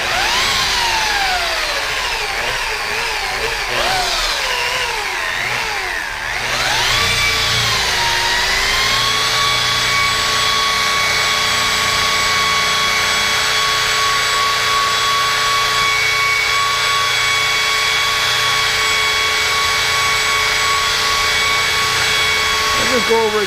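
An electric buffing machine whines loudly and steadily while polishing one spot on a Subaru Forester's paint, its pitch sweeping up and down early on before settling into an even drone.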